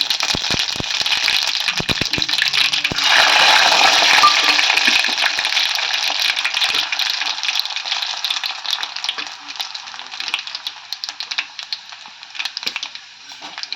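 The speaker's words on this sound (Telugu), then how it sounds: "ఇప్పుడు తాలింపు చిటపటలాడుతుంది" Mustard seeds, cumin and urad dal tempering in hot oil for tomato pickle crackle and pop rapidly, starting with a loud hissing burst that settles into dense, irregular spitting close by.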